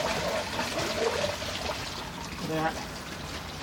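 Liquid is poured into a leaf-litter biogas digester, a steady splashing rush that runs throughout, with a brief spoken word partway through.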